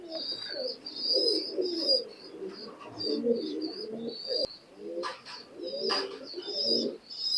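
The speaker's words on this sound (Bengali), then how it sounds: "কবুতরটা একটু ভয় পাচ্ছে মাদিটা" Imported-bloodline high flying pigeons cooing close by in a loft, with repeated soft throaty coos, small rustles and a few brief chirps throughout, and no speech.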